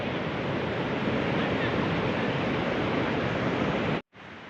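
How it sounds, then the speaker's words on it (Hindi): Hot spring water churning at Gaurikund, a dense, loud hiss of rushing, bubbling water that stays steady, then cuts off abruptly near the end before resuming more faintly. "पानी देखो कैसा उबल रहा है"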